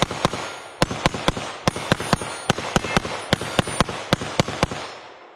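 A Keltec PR57 pistol firing a long string of rounds, roughly twenty sharp loud cracks in an uneven but rapid rhythm, each shot ringing briefly outdoors.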